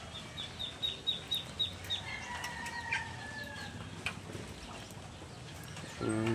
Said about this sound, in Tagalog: Ito ang mga pato